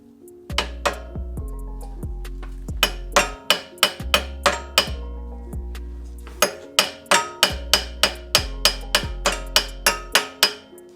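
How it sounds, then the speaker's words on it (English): Heavy blows from a large hammer strike metal repeatedly in an uneven rhythm during a coilover install on a 240SX, loud and close, each hit ringing briefly. "Let me grab the real big boy hammer."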